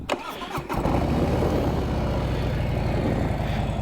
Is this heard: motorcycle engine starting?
yes